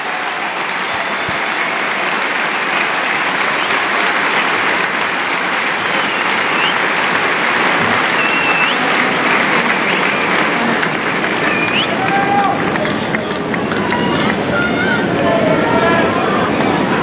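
The Court 1 crowd at Wimbledon applauds a held serve in a 2018 women's tennis match, with dense sustained clapping and cheering throughout and a commentator speaking over it.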